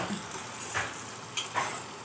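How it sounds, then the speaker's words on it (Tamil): Tomatoes being sautéed and stirred in a pan give off a faint, steady sizzle, with a few brief scraping clinks from the stirring utensil. "நல்லா வணக்கி விடுங்க"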